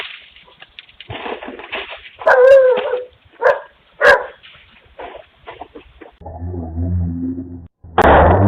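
A homeowner's dog barks sharply at a thief caught on a doorbell camera, several loud separate barks and yelps spread across the clip, with a low rumbling stretch near the end.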